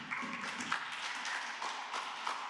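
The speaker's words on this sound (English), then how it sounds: "If you could please just hold your applause" Clapping from the audience at a Burlington city council meeting, a steady, moderately quiet patter of many hands lasting throughout, with no talking over it.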